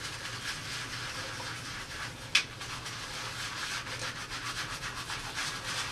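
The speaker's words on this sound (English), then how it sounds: "I just circle and swirl it around and get it good and soapy" Makeup brush swirled in circles with soap over a ridged silicone cleaning mat, giving a steady soft wet rubbing and scrubbing texture throughout, with one brief sharp tap partway through.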